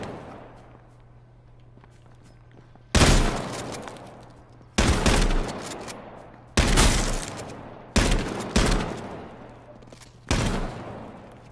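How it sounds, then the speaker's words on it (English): Gunfire in the survival game H1Z1, loud close bursts of shots arriving in about six separate clusters over a low background hum, each burst cutting off sharply. "I'm getting shot at."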